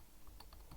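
Someone types a terminal command on a computer keyboard: a few quick, quiet key taps over a soft background hiss, no voices.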